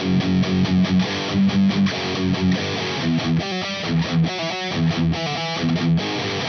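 A loud, distorted electric guitar plays a chugging, palm-muted riff, tight and rhythmic with short punchy notes and a chromatic run, with no talk over it.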